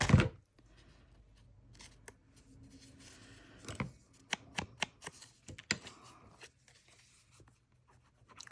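Scissors snipping paper for junk journal ephemera, close up: a sharp rustle at the start, then a quiet stretch and a series of crisp individual cuts and paper handling sounds in an otherwise quiet room.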